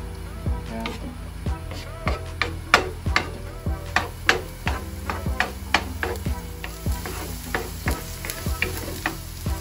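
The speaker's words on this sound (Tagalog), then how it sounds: "ilagay na natin yung ating garlic para hindi siya masunog agad" Garlic sizzles in cooking oil while a utensil stirs and taps against the pan, producing a steady frying hiss punctuated by frequent sharp clinks.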